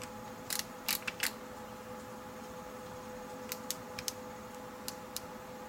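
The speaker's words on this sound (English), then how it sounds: "So I'm just going to simply put my torque wrench on here until it hits that spec." Torque wrench on a 1970s Ford 390 engine, a few small sharp clicks in two brief clusters over a steady low background hum.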